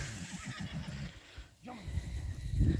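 A stallion whinnies near a mare in a loud, shaky neigh rising and falling, with some low rumbling and movement noise around it.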